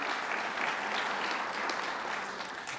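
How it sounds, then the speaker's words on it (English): An audience at a Hofstra University event with New York Governor Andrew Cuomo applauds steadily, a dense even wash of clapping from many hands that carries through without pause. "Let's give him another round of applause, Professor Rabinowitz."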